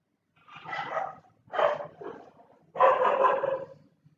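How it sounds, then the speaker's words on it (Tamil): A dog barks in the background, three separate bursts of barking, fairly loud and alone with no talking. "பின்னாடி நாய் வந்து சத்தம் போயிட்டே இருக்கு."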